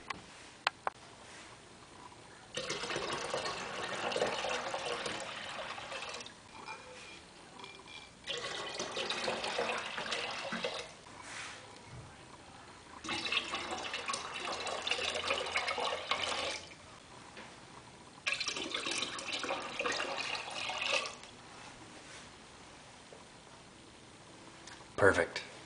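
Water running steadily into a vessel for homebrewing an Imperial APA, coming in several sustained rushing bursts separated by brief quieter pauses, close and fairly loud.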